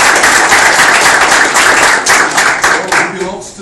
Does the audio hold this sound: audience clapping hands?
yes